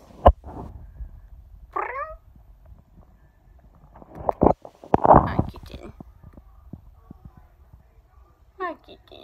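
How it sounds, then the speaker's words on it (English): A kitten gives two short, high meows, one early and one at the end, amid soft thumps and rustling in a quiet room. "Just being a kitten. Just loving kitten life."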